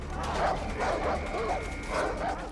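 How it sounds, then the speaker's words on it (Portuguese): A dog in the video game Far Cry 4 gives a few whining, yipping barks in a short series, heard clearly over a low game-sound bed. "Ó o cachorro."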